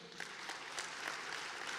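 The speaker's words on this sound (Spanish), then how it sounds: "pido un aplauso para él." Applause from the audience at the 2023 Partido Nacional convention in Uruguay, a steady wash of clapping that holds evenly through the short moment without a break.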